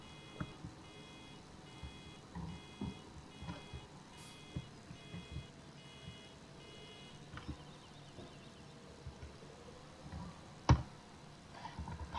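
A laser box in Farming Simulator 17 gives off faint, repeated electronic beeps in a steady pattern, with scattered soft clicks and one sharp tap.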